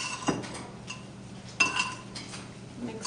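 Apples being tossed with cinnamon sugar in a bowl for an apple kuchen, with a few light clinks of a utensil against the bowl and soft stirring in between, close and fairly quiet.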